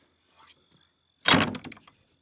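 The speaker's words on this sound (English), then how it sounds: "Okay, we gotta close the door." A brief rustle, then the solid door of a duck house swings shut with a single thudding clunk and a faint rattle settling after it.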